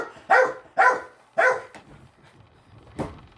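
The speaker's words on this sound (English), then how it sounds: "listen to the dog bark in the background" A dog barks three times in quick succession, fairly loud and close, followed by quieter background noise and one last softer bark near the end; no one talks.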